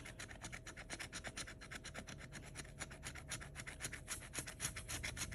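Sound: scratching a scratch-off lottery ticket

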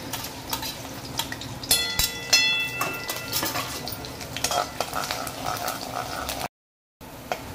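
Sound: garlic frying in hot oil in a kadai

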